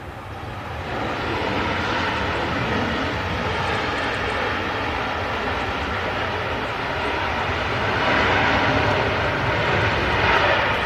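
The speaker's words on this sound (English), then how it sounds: "I'll wait till this Ryanair lands" A Ryanair airliner lands at Manchester Airport, a loud, steady engine roar that holds for the whole stretch and swells slightly toward the end, with no voices over it.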